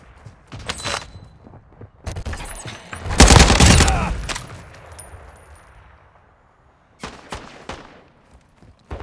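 Gunfire from the video game Call of Duty DMZ comes as loud bursts of rapid shots with a booming peak in the middle, followed by scattered single shots later.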